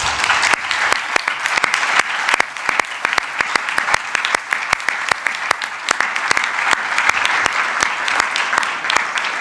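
An audience applauds staff of an international organisation's office in Ecuador with loud, sustained clapping, many sharp individual claps standing out from the crowd's continuous patter for the full length, close and strong.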